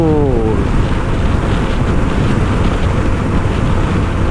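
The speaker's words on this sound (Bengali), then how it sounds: "প্রচুর বাতাস, প্রচুর।" Strong wind buffets the microphone in a loud, continuous roar during a motorbike ride across the Padma bridge, with brief engine whine at the start and no letup.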